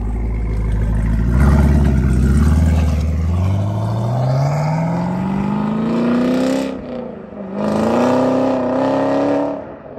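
A Chevrolet Camaro ZL1 accelerates hard nearby, its engine note climbing through one long pull, briefly lifting for a shift, then rising again, loud and without talk.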